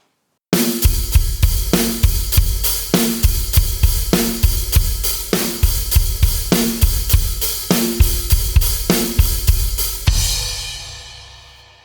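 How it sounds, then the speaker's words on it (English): A drum kit plays a steady eighth-note rock groove that starts on the snare instead of the kick, snare hits leading each pattern, with bright cymbal wash; the last crash rings out and fades. "he flips that eighth note rock beat around, and instead of starting with the kick drum, he starts it with the snare drum"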